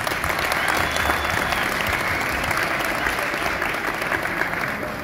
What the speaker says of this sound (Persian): لطفا یک تشویق کنید.